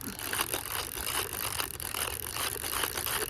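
The drum magazine of a Tokyo Marui Saiga-12K airsoft shotgun is wound clockwise, giving a continuous run of fast, close ratchet clicks with a faint mechanical rattle.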